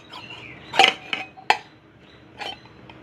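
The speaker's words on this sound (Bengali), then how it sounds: "এবার টিফিন বাটিটাকে দিয়ে দেবো ভাতের মাঝখানে বসিয়ে।" A tiffin bowl is set into the middle of rice in a cooking pot, giving a few sharp clinks and knocks close by, with two bright hits followed by a softer clatter.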